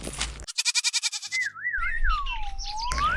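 A goat sounds off in a cartoon story scene: a quick rapid series of bleat-like pulses, then a long wavering high cry that sweeps down and up, loud and alone with no talk.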